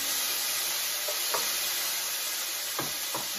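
Garlic and tomatoes sizzling in a pan as the base for lentil soup, a soft, steady frying hiss with a few light knocks and scrapes of stirring, with no talking.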